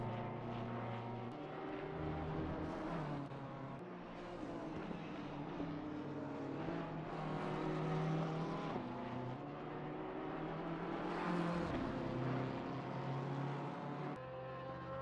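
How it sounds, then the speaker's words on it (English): A BMW M4 race car drives on the Nürburgring track during a winter endurance race, its engine droning steadily with rising and falling pitch as it runs through gears, moderately distant and continuous. "Looks like Cronotis is out on track in the ETK K-Team BMW M4."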